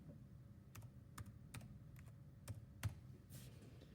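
Someone types on a computer keyboard while adding text in laser-cutter software, producing faint, sparse clicks and taps at an irregular pace over a quiet low background hum.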